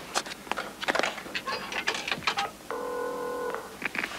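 A telephone is dialed to call the police: a run of clicks and handling noises, then a steady dial tone that holds for under a second before the clicks resume.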